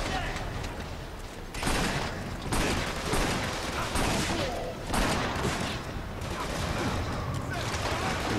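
Sustained gunfire from the video game Killzone 2 on Elite difficulty, dense overlapping bursts with several louder surges, filling the whole stretch with chaotic battle noise.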